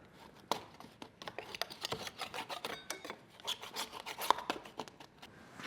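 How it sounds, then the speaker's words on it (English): A small scraper rasps repeatedly at an old gutter end seal, producing a steady run of close, dry scraping strokes with no talk. "Hopefully I'll get in with a little scraper."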